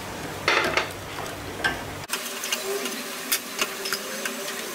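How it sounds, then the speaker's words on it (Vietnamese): Rice flour being stirred into coconut milk in a pot, a spoon scraping and swirling with soft clinks and light bubbling; close, intermittent strokes with a brief cut midway. "chúng ta sẽ quậy từ từ cho cái bột của mình nó sánh lại nè"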